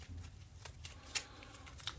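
A deck of game cards is shuffled close by during a tabletop game session, with soft riffling and a string of light papery clicks and flutters, quiet and without talk.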